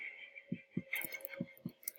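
A heartbeat in a horror video game thumps in a slow, regular double-beat rhythm, about five low pulses over a sustained eerie tone, with no talking.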